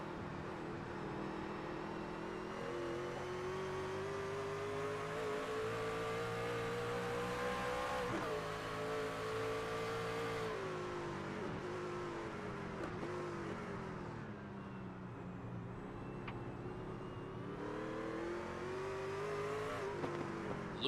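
Race trucks accelerate hard around the Belle Isle street circuit, engines rising and falling in pitch as several pass close by in a continuous loud roar, with occasional tire noise.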